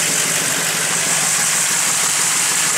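A 1967 Pontiac Bonneville engine runs at a steady idle, a continuous close, even rumble with a broad hiss and no breaks or voices.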